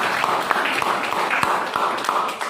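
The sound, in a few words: classroom applause for a question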